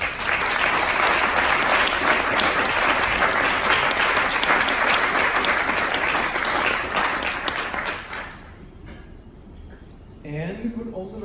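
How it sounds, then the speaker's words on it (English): An event audience gives the organizing team a warm round of applause, dense and loud for about eight seconds before dying away, after which a voice begins speaking. "Please give a warm round of applause for the team."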